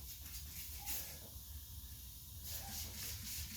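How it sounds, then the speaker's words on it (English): Swiss Wax car bar rinseless wash sprays onto a car panel in a steady, faint hiss that runs for several seconds, with brief gentle pulses from repeated trigger pulls. "Now I'll go and spray this side of the panel down as well, this time with Swiss Wax car bar"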